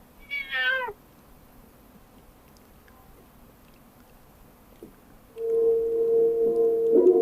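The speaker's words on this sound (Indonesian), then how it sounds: "Ada kucing." A cat meows once, a short clear cry near the start, later followed by a louder sustained tonal sound with a steady pitch, in an indoor setting with no talk.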